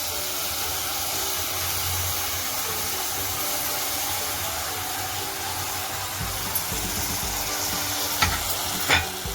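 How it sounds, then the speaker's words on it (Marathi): Soaked rice being stirred into vegetable pulao in a hot pan gives a steady close sizzle and hiss, with a few scraping strokes toward the end and no talking. "ते सगळं एकजीव करून घ्यायचं, म्हणजे मिक्स करून घ्यायचं आहे व्यवस्थित"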